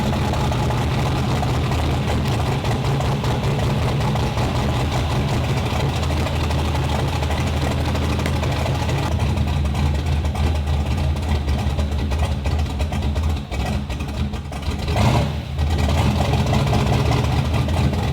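A 1965 GMC truck engine idles with a steady, loud low rumble and a broad mechanical hiss. A brief dip and a clatter come near the end, and no speech is heard over it.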